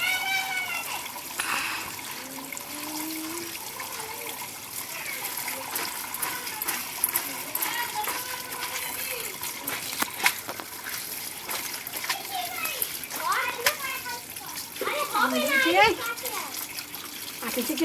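Pieces of raw mango for jelly are washed by hand in water, with continuous splashing, sloshing and trickling close by while someone talks over it.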